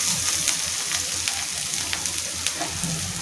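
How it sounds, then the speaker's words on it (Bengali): Spices with turmeric and salt fry in a pan for a thin Rayna fish broth, crackling in a continuous close sizzle dotted with small pops and stirring scrapes. "মশলাটাকে ভালো করে কষিয়ে নিতে হবে।"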